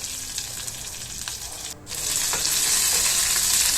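Eggplant fries with masala in hot oil, a steady close sizzle with a brief dip where it is stirred, then a louder, brighter crackle continuing to the end, no voices.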